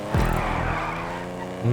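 A racing drift car in GTA 5 slides with a sharp tyre squeal and skid over a loud engine roar, the squeal rising briefly at the start before the motor drones on.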